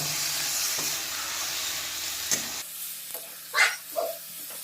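Chicken being stirred with masala in a cooking pot, with a steady sizzling hiss for the first few seconds, then quieter scraping and a few short clinks of the spoon against the pot.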